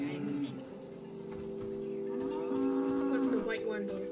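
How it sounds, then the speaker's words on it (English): Cow mooing in the video game Season: A Letter to the Future, a long drawn-out low moo carrying for several seconds, fairly faint and close, with soft background tones. "You are a cow"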